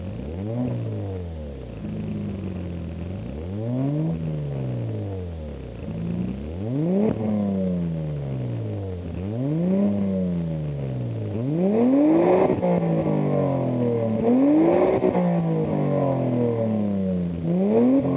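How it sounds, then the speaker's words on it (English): A 1993 Ford Probe GT's exhaust with a new, not yet burned-in muffler revs repeatedly, each rise and fall of the engine note clear and throaty, with a deep rumble between blips and no voices. "The muffler still's got to burn in, but it sounds pretty good."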